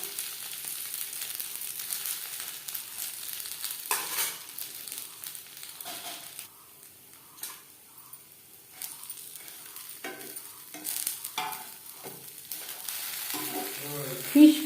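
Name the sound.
fish frying in oil in a pan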